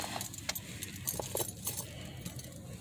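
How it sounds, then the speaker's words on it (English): Faint metallic jingles of car keys come in short irregular bursts while the car doors are being locked, set against a quiet outdoor background with low road noise. "I'm just gonna have to lock the doors."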